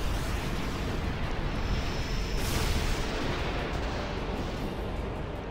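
Bahamut's attack in Final Fantasy X HD lands as a loud, sustained roaring blast of rumbling booms with a sharp surge partway through, then slowly fades, with no talking.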